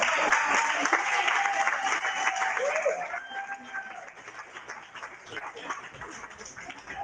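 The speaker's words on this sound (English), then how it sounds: "Let's give him a round of applause." Applause for a magician at a virtual magic show, with moderate clapping that thins out partway through into scattered claps and room noise.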